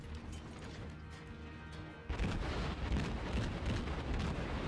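A Japanese Atago cruiser fires a naval gun salvo in World of Warships, a sudden heavy booming blast that rolls on as a dense, loud rumble over a quieter background hum.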